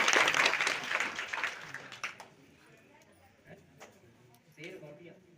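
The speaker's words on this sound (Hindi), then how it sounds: "जोड़ ताली सम्मान करो सामने।" A crowd applauds to honour a person at a Satnami community Satnam Rawti gathering in Khairwar Khurd, Lormi. The clapping is loud and dense at first, then fades over a couple of seconds into quieter room sounds.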